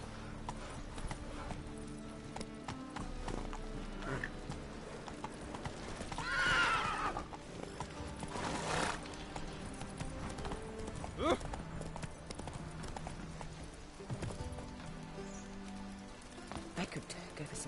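Roach, the horse in The Witcher 3, galloping with a rapid steady clip-clop of hooves and an occasional whinny, under game music and a voice talking.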